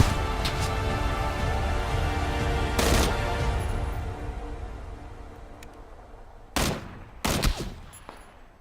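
Gunfire in the video game PlayerUnknown's Battlegrounds: sharp shots crack out over a steady low background, first a single burst and then a tight cluster of loud reports near the end, with no talking.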